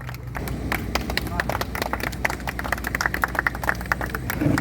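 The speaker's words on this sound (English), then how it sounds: "Big round of applause for Janvika." Crowd applause for a young swimmer who has just completed 500 meters in the open Mandovi river, a dense patter of many hands clapping outdoors, moderately loud with sharper individual claps near the end.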